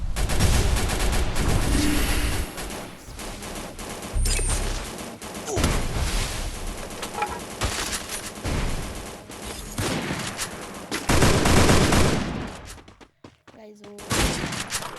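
Rapid bursts of MP5 submachine gun fire in a shooting video game crackle in repeated volleys, loud and dense, with someone talking excitedly over the action in between the bursts.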